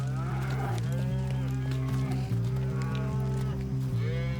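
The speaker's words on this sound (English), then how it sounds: "Up to 8 million cattle graze here." Cattle on a Pantanal wetland ranch moo in long, drawn-out calls that repeat several times, loud and close over a steady background of many animals, with no one talking.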